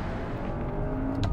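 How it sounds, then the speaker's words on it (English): A Cupra Formentor crossover accelerating hard under full power out of a bend. The engine's rumble stays loud and close throughout, with no speech. "So right here, get on the power, it just fires you down the road."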